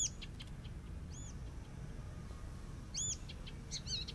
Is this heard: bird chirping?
yes